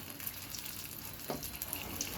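Eggplant slices frying in a pan, a faint steady sizzle with occasional soft pops and crackles, no voices over it.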